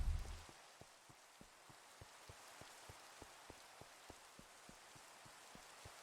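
Rain falling in the Minecraft video game, a soft, steady hiss of rainfall with faint, regular drop ticks. A brief thump is heard at the start, and no one talks.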